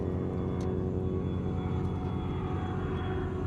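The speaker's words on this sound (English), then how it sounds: "The next day, we're flying to Melbourne, but Mark's got the flu." Steady droning rumble inside an airplane flying to Melbourne, a constant loud engine hum with no voices.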